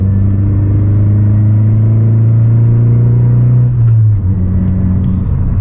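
Tuned 2018 Honda Civic Si sedan under light throttle building turbo boost, a loud steady engine drone heard from inside, pitch climbing slightly before a brief dip and resumed pull.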